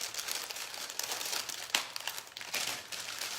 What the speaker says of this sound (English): we're just gonna wrap it up like you would a normal sandwich